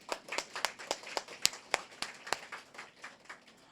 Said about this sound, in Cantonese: 再一次俾啲掌聲我哋嘅主。